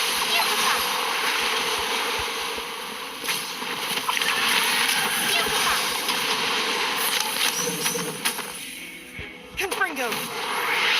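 A water orb spell bursts with splashing, rushing water in the Harry Potter Magic Awakened video game, washing over game effects with voices mixed in and a few sharp swishes near the end.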